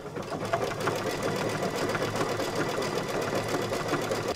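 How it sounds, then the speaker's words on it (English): An embroidery machine sews a decorative triple bean stitch beside a satin stitch, with a steady, rapid mechanical whirring and rhythmic needle knocking heard up close and alone. "The next stitch is a decorative inner stitching that goes right next to the satin stitch. It's like a triple bean stitch."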